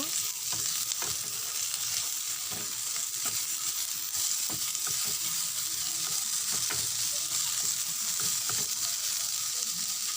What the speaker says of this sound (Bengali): এবারে টমেটো দিয়েছি 1 বাটির চাইতে একটু কম। টমেটোকে নেড়ে নেব।